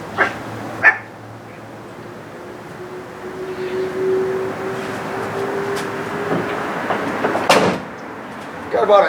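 A Ford Super Duty truck door, fitted against a modified Fab Fours bumper, opens and shuts with a couple of sharp clunks at the start and another near the end, separated by a quiet stretch of low hum.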